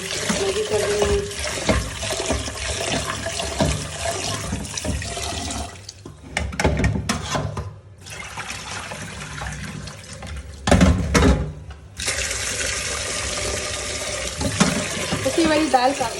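Dal lentils being washed by hand in water at a kitchen tap: steady running and splashing water, briefly interrupted twice, then sloshing resumes, close and fairly loud.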